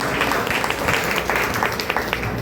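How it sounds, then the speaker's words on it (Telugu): Worshippers at a memorial gathering clap hard in a continuous, fairly dense burst of applause, with a few sharper individual claps standing out in the mix. "గట్టిగా చప్పట్లు పెట్టి"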